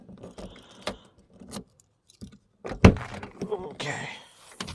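Car keys jangling around an old Opel Corsa B, several brief metallic rattles and clinks scattered among thumps and shuffling, with a person speaking.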